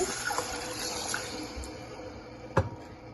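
Water poured into a saucepan of sugar for gulab jamun syrup gives a soft, steady splashing wash, with a sharp clink near the end.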